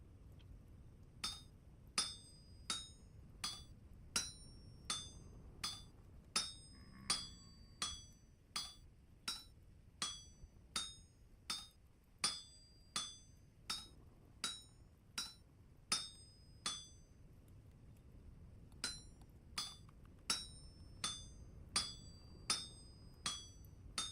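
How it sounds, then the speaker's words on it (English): In Vintage Story, a large wind-powered drop hammer pounds in a steady, even rhythm, each strike a ringing metallic clang over a low mechanical rumble, repeating for over twenty blows. "It is a really just big hammer, and it runs on wind power."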